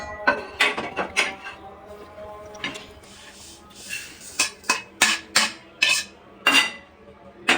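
Rapid metal scrapes and clinks of a spoon stirring lentils in a pan on the stove, irregular at first and then settling into steady, loud strokes about twice a second; no voices.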